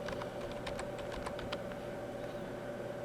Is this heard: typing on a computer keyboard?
yes